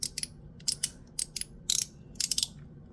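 A One Pal mechanical slider fidget toy snaps along in about a dozen short, bright ratcheting clicks, close and fairly quiet, in quick irregular pairs and clusters with no voices.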